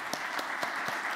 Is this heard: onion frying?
no